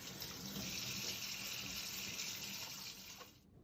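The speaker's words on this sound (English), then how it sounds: "it's important to wash your hands with soap and water for at least 20 seconds" Tap water runs steadily into a sink while hands are washed with soap before cooking, a continuous close splashing stream that cuts off abruptly near the end.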